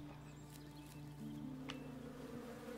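Insect buzzing at a bee nest in the video game Above Snakes, a steady drone hanging in the background throughout, with a few faint ticks and clicks over it and no talk.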